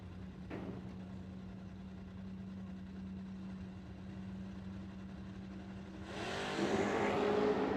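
Low idling rumble from a 1990 Mustang drag race car at a no-prep drag event, fairly faint and steady, before a sudden loud roar of acceleration near the end.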